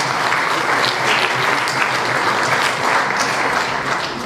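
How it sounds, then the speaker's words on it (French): Sustained applause from a crowd at a French political party federal council meeting, dense and steady throughout, loud and close, with no speech over it. "Des élus, faut l'applaudir aussi à vous."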